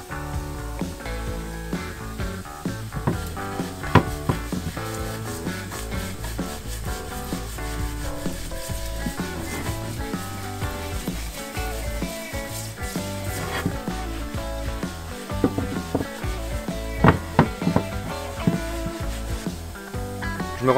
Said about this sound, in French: Une petite démonstration de vaisselle